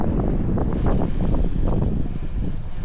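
Strong wind buffets the microphone with a constant low rumble and gusting roar.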